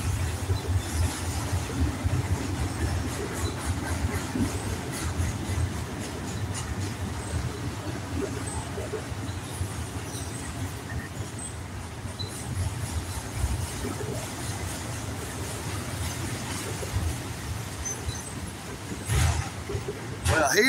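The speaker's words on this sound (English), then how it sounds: "Here is the end of that there train." A train rumbles past at a distance, a steady low roar with faint rattling and occasional squeals, continuing throughout.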